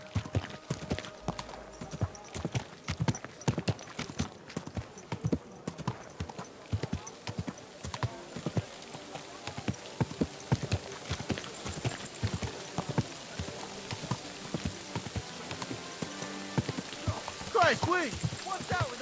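Steady clip-clopping of horse hooves in Kingdom Come: Deliverance II runs throughout, quick and rhythmic, mixed with a soft rain-like patter and occasional voices.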